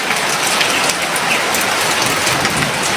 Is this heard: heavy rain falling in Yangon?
yes